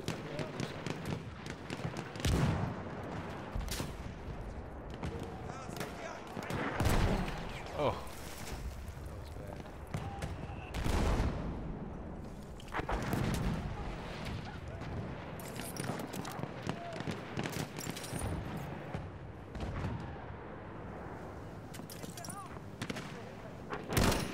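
Battlefield 1 gunfire rattles in dense, repeated bursts and single shots throughout a busy video-game battle, with a player's voice talking over much of it.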